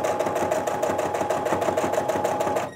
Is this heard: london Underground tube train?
no